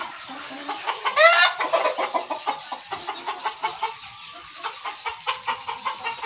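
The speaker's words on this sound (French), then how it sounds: "Là, ce sont des coqueliers." Chickens and young cockerels on a poultry farm cluck and squawk busily together, a dense, continuous chorus of rapid calls with one louder rising squawk, close by and without talking.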